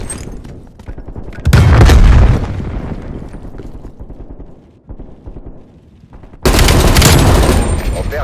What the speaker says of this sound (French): J'envoie une grenade frag.